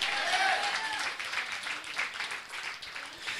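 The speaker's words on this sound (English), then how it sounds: "Somebody clap your hands and shout yes!" A church congregation claps and calls out in a faint, distant wash of applause and crowd noise that fills the room steadily.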